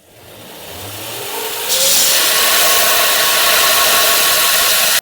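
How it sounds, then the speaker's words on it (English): A grinder spins up and grinds down the ends of M8 bolts used as vise hardware, rising to a loud, steady, harsh grinding roar close by, with no speech. "I'm going to grind the end of these bolts down."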